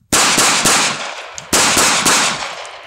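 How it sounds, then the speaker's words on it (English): Rapid fire from a compact EMP 9mm pistol at a 15-foot range: loud, close, sharp shots in two quick bursts, each crack trailing into a brief ringing decay. "next up is the EMP, again at 15 feet, rapid fire for group."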